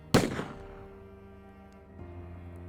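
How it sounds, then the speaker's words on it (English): A single sharp gunshot cracks loudly at the start, then decays into a long rumbling echo that fades, with a faint low thump near the end. "a gunshot."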